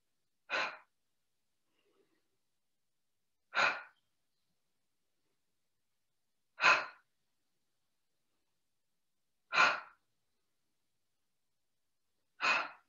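Breaths during a chair yoga class come as five soft, evenly spaced exhalations about three seconds apart, each a short airy rush separated by silence.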